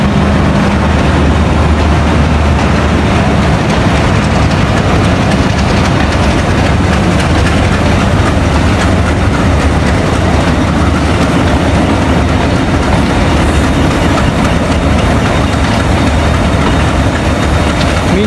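A Pakistan Railways locomotive, likely a PHA class, shunts a train toward platform 2, a loud steady engine rumble with rolling rail noise throughout, no voices.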